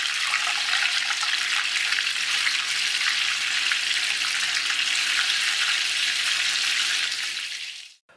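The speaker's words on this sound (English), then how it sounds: "The only thing left to do now is to deep fry these." Jalapeno poppers stuffed with lamb, cheese and pineapple deep frying in hot oil, a loud steady hiss and crackle that holds evenly for about eight seconds before cutting off abruptly.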